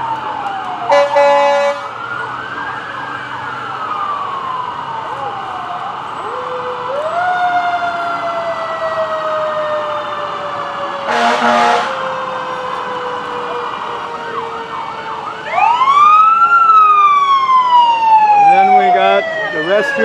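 Colesburg Fire and Rescue vehicles roll past in a Stars & Stripes Day parade in Guttenberg, their sirens wailing in overlapping rising and falling sweeps, broken by a few short harsh horn blasts, loud and close.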